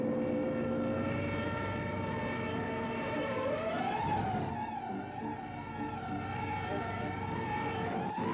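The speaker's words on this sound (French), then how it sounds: "Les Stukas sont même spécialement équipés de sirènes, destinées à créer la panique et le désordre sur les arrières de l'ennemi." A Stuka dive bomber with its siren sounds loud and continuous, a wailing tone that rises and swells midway over a heavy droning engine roar, with no talk.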